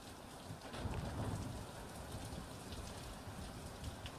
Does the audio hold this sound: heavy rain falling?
yes